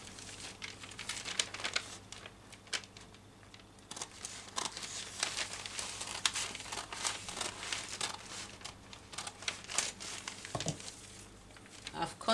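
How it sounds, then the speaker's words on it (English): Scissors snip through fabric for the back neck of a batwing top, with close crisp cuts and crinkling cloth rustle continuing in an irregular rhythm. "I'm going to cut the back neck first. So I'm going to cut from here like so."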